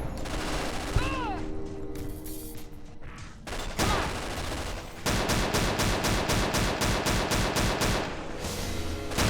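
Gunfire in the Fallout New Vegas video game: a few scattered shots early, then a long run of rapid evenly spaced bursts, loud and close, with faint voice sounds mixed in.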